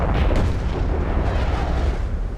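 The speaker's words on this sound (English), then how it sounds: "artillery's having a fine game. They're busy shelling the crap at anything that they can spot." Artillery shelling in the tank battle game World of Tanks, heard as a dense, continuous rumble of booming fire and blasts that stays loud and steady throughout, with no voices.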